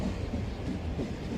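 A very long train rolls past without end, a steady low rumble of wagons holding at an even level throughout, with no voices over it.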